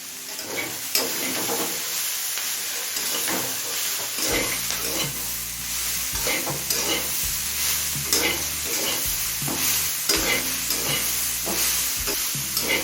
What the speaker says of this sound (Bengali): সমস্ত কিছু আরও তিন চার মিনিট ভেজে নিয়েছি